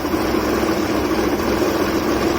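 A 1997 Maruti 800 engine idles steadily with a dense, even mechanical rumble and vibration, loud and close with no talk.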